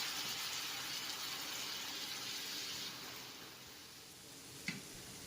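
Ginger, green chili and tomato go into a hot pan of oil and sizzle with a faint, steady hiss, with one brief clink near the end.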